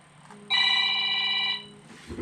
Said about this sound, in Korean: 아, 또 전화가 왔네.